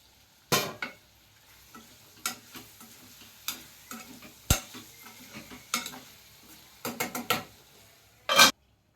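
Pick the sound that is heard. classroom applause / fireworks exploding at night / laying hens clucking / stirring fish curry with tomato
stirring fish curry with tomato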